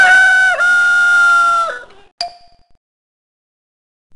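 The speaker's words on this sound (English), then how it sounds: "For a great big rooster sound, press any key you want." A single loud rooster crow from the 1999 PC game Sesame Street: Baby & Me, long and drawn out with a wavering end, then a brief squawk and silence.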